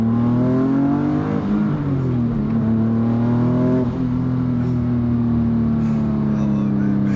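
Engine of a big-turbo Infiniti G37 coupe pulls hard into boost, a loud, sustained drone with a slowly rising and dipping pitch, heard close up and continuous.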